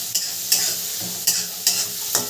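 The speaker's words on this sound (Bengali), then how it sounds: "এবার একটু নাড়তে থাকবো, পেঁয়াজটা ভালো করে নাড়াচাড়া করতে থাকবো" A utensil scrapes around a pan five times in a steady rhythm over a soft, continuous sizzle of onions frying.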